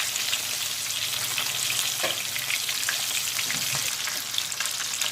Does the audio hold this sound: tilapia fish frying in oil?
yes